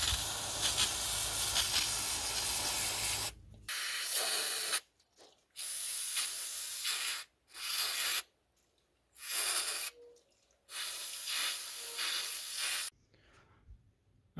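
Degreaser is sprayed onto a BMW X3 VANOS solenoid filter in a series of close, loud hissing bursts: one long opening spray, then several shorter blasts separated by quiet gaps, with no speech.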